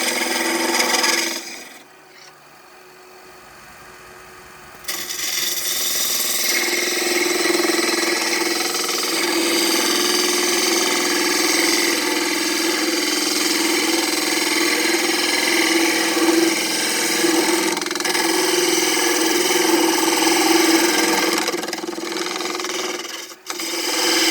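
A wood lathe turns a very narrow spindle braced by a tailstock, giving a steady, loud rasping and scraping drone with slight vibration that runs almost the whole time after a brief quieter start.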